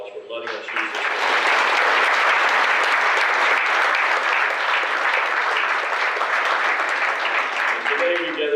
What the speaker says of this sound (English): we want to give them a great round of applause for letting us use this room